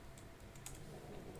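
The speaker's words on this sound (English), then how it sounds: "just continue typing" Password typed on a computer keyboard, a quiet run of soft, rapid key taps over low background hiss, no voices.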